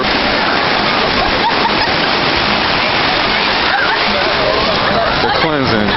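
Rushing water splashes continuously, loud and close, like a small waterfall or stream pouring steadily, with faint voices underneath near the end.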